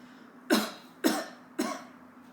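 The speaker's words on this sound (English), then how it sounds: "And if I cough," Three short, sharp coughs spaced about half a second apart, close and fairly loud, with quiet in between.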